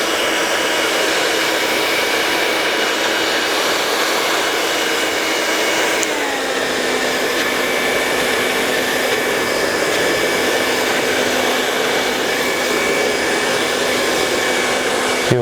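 A hair dryer blasts fine hair during styling, a loud, continuous close-up whoosh with a steady motor whine that shifts pitch slightly partway through, no speech.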